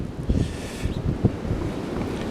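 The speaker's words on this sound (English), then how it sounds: "Man, can you hear the wind?" Wind blowing hard outdoors in snowy weather with a couple of inches of snow on the ground, a steady broadband roar that rises in gusts, close and loud on the microphone.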